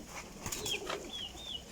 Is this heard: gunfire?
no